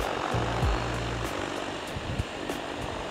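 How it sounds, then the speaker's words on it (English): Talos T60X drone flying in manual mode, a steady whirring propeller drone sound that stays even and continuous throughout, fairly close, with a few faint low thumps underneath. "So now the drone will consistently fly in this direction."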